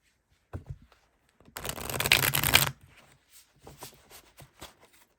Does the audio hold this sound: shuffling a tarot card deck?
yes